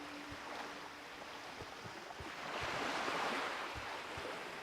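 Ocean water in World of Warcraft Classic: a soft, steady wash of surf swelling slightly midway, with faint low thumps scattered through it and no voices.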